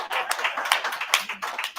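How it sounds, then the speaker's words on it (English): Short burst of clapping from an audience at a Black business and startup event, a few uneven distinct claps over a brief stretch, fairly faint. "One more applause."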